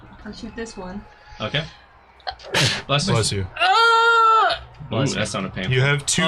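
A single sharp sneeze bursts out during a tabletop role-playing game session, standing out loudly amid people talking and laughing around the table.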